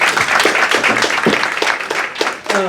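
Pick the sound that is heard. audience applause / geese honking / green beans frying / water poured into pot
audience applause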